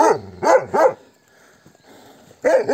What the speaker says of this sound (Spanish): hasta los perros nos salieron a ladrar